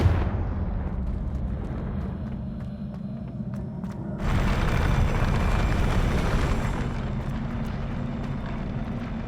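A Confringo blasting spell goes off in Hogwarts Legacy, a deep rumbling explosion whose roar swells sharply midway and then sustains into a long, loud, fiery wash before slowly easing.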